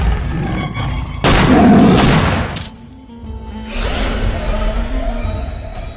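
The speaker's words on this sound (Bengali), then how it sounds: "গুলি করো গুলি করো।" Cartoon gunfire in a Sundarbans tiger chase: a loud burst of blasts and whooshing rushes in around the first second, dies away, then a fainter rumbling follows.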